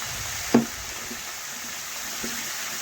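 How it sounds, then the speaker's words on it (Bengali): Spices sautéing in a pan for katla fish curry give a steady faint sizzle, broken by one sharp utensil knock near the start and a softer scrape later. "এইভাবে কষিয়ে নেব একটু"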